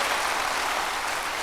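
A church congregation applauds during a worship service, a dense, steady wash of many hands clapping together that fills the room without a break.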